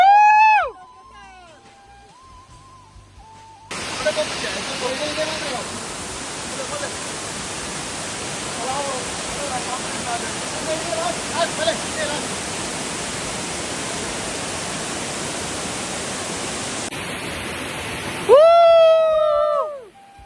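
Elneer waterfall in a forested hill area, a loud, steady broadband roar of falling water that holds constant for about fifteen seconds, with quieter moments and bird-like chirps before and after it.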